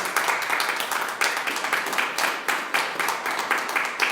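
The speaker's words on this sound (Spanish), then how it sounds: "Denle un aplauso al Señor." A church congregation applauds steadily, dense clapping from many hands filling the space in loud, even waves with no talking over it.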